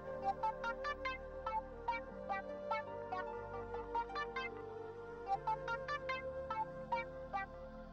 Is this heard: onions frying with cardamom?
no